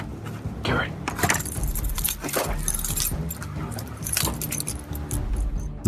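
Keys jangle and clink in bursts near a car at a dark campsite, sharp metallic rattles repeating over a few seconds with tense voices speaking around them.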